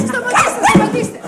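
A dog whimpers and yips in short, high, whining bursts, close by and mixed with a person talking over it.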